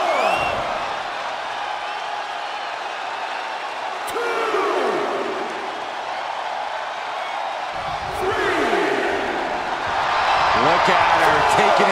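Arena crowd from the WWE 2K23 wrestling game during Drew McIntyre versus Nandini Reddy, a continuous roar that swells toward the end under steady play-by-play commentary and a count.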